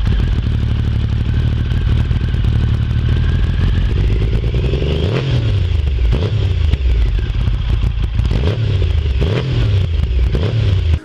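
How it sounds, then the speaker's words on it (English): A 1994 Triumph Speed Triple naked motorcycle roars loudly and close, its engine rumbling steadily and then revving in repeated rising and falling sweeps as it runs through the gears, with no talking. "Let's listen to the classic sounds of the 1994 Speed Triple"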